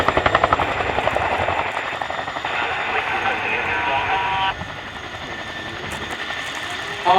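A Chinook HC5 twin-rotor helicopter manoeuvres low at the RIAT 2024 airshow, its loud, steady rotor thrum and turbine whine holding close and continuous before easing slightly in level, with a commentator talking over it.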